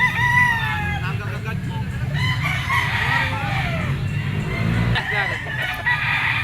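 A claret, yellow-legged bull stag gamecock of Gilmore bloodline crows loudly and close at a pet market, with other roosters crowing and clucking around it and voices talking in the background.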